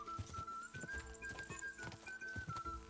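A horse gallops in Kingdom Come: Deliverance II, its hoofbeats thudding in a quick, uneven rhythm under a steady tonal game soundscape, fairly faint overall.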